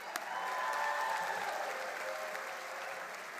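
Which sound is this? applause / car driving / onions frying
applause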